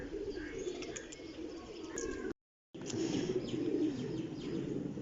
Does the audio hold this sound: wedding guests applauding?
no